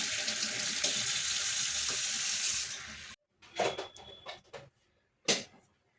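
Milk pours in a steady, continuous stream into a pot for vermicelli pudding for about three seconds, followed by a few short clinks and stirring knocks with pauses between.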